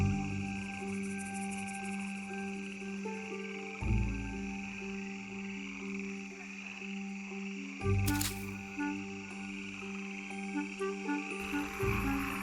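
Cross-barred tree frogs, a small species unique to the canyon, croak at nightfall in a steady layered chorus, with a few louder calls breaking through near the middle and end.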